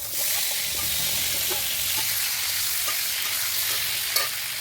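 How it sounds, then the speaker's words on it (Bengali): Pointed gourd and potatoes fry in hot oil in a wok, giving a loud, steady sizzle close up with occasional soft scrapes of a stirring utensil throughout, and no voices. "ওই কড়ার মধ্যে পটল আলুটাও ভেজে নেব"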